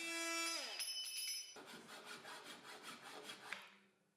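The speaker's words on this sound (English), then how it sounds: "I'll finish the cut with an oscillating multi-tool and a file." A metal file rasps back and forth in quick repeated strokes on an aluminum profile, following a brief high whine of an oscillating multi-tool at the start.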